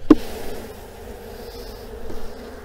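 Honey bees buzz around an open beehive while it is being readied for winter, a steady close hum with a sharp knock near the start.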